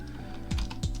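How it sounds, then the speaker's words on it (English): Quick keystrokes on a computer keyboard while entering a game title on a Linux setup, a short burst of a few clicks with two louder taps, close by and alone. "I went over here and I typed in SimCity, if I can type"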